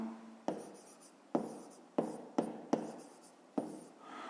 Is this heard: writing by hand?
yes